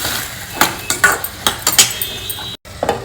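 Masala spices of turmeric, salt and Kashmiri chili powder stirred into food in a pan, giving repeated scraping and metallic clinks of a utensil against the pan in an uneven rhythm, close and fairly loud.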